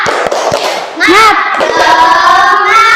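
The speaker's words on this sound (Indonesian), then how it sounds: "Ya, tepuk semangat dulu, tepuk semangat." Classroom of students in an Islamic religious education lesson performing a rhythmic spirit clap: a few sharp, separate claps, then children's voices join in a loud, sung chant in unison.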